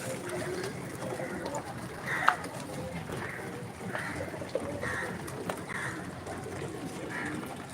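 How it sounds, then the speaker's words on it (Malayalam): Pigeons coo softly on a farm, a series of repeated low murmuring calls at a fairly even rhythm over quiet background noise. "ഇപ്പോൾ പത്ത് മണ്ണ് തിന്നാൻ പ്രാവെല്ലാം മുകളിൽ തിന്നുന്നുണ്ട്"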